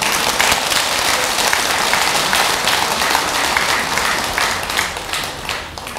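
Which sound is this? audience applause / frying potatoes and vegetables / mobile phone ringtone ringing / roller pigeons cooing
audience applause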